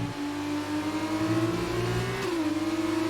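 A Formula 2 race car engine in a racing video game holds a high, steady whine that climbs slightly and then dips as it brakes into a corner, loud and continuous with no voices.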